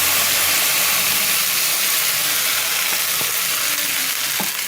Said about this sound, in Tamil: அரைச்சி வச்ச பிரண்டை சட்னியை இப்போ ஊற்றிக்கலாம்.